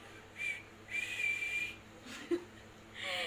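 A person imitates a whistle with their voice, a few short and long tones with breathy pauses in between, ending in a brief burst of breath.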